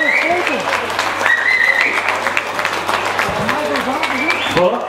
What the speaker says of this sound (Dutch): En uw applaus, dames en heren, voor Nina Kessler.